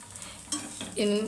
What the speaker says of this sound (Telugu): సేమి అనేది మాడకుండా మంచి కలర్ వచ్చింది దాకైతే వేయించుకోవాలండి